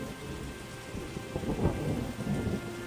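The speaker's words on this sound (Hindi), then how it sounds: "कई दिनों से लगातार बारिश हो रही थी।" Heavy rain falling with low thunder rumbling beneath it, a faint, steady wash of rainfall with a few deeper swells in the middle.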